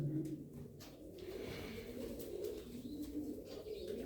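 Tumbler pigeons coo in soft, repeated low calls close by, alone without any talk.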